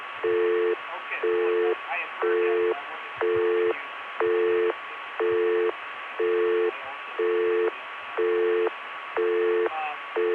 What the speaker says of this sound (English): Here's that busy signal, which if you listen carefully, has the sound of people talking in a room in the background.